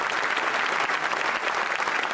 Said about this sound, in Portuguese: o parlamento britânico aplaudiu de pé o homem que está liderando a resistência ucraniana